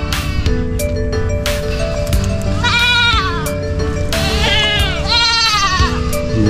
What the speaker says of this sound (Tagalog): kambing po nila, mga hybrid na. Hindi na po native ito.